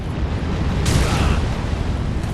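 A fire cleric in Dark Souls 3, Irithyll of the Boreal Valley, slams a flaming staff down, giving a single heavy whooshing burst over a dense, rumbling game background.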